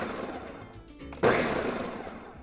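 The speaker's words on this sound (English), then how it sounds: "this blender is really loud, but if you like pulse it, it doesn't actually get very loud" A kitchen blender pulses loudly in a sudden burst of whirring motor noise after a quieter stretch, chopping ingredients for a burrito and rice meal.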